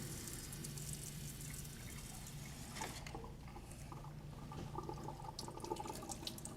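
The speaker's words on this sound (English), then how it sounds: "You do that under cold running water." Cold tap water running over frozen, ice-glazed fish fillets makes a continuous soft hiss, with intermittent splashes and drips as it flows.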